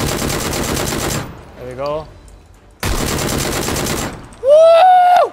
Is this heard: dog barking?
no